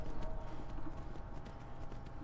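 Horse hooves clip-clop steadily across the ground in the Skyrim video game, a continuous rhythmic trotting that stays fairly close and moderately loud with no talking over it.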